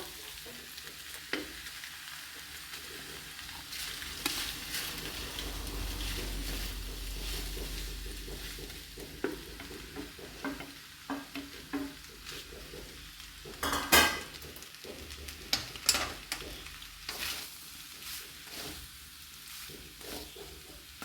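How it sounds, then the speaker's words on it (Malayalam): Pasta stirred and frying in a pan with chili, a steady sizzle under scraping and clinking of a utensil against the pan, with no talking. "നമ്മളിതിലേക്ക് ഇത്തിരി ആയിട്ട് പാസ്ത ഇട്ട് കൊടുക്കുകയാണ്"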